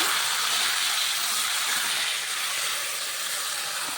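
Water poured into a hot pan of fried spices, radhuni and fenugreek, for a banana stem shukto, giving a loud, continuous broadband hiss that holds steady and fades slightly toward the end.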